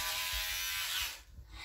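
A child's electric toothbrush buzzes steadily at low volume, then switches off and leaves near silence with faint handling sounds.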